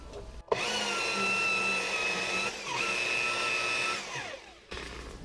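Handheld polisher with a polishing pad buffing a small car headlight, giving a steady whirring motor drone with shifting pitch that dips briefly midway and cuts off near the end, with no talk over it.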